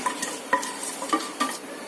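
Fennel, cinnamon, cardamom and cloves sautéing in a pan for a mushroom gravy, a soft sizzle broken by a few light scrapes and clinks of a spoon stirring against the pan.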